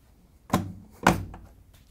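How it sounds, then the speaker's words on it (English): A Whirlpool front-loading washing machine door is shut after its tub bellow seal is replaced, giving two dull, fairly close thunks about half a second apart, with no talking. "Once you're sure it's on, you can close the door."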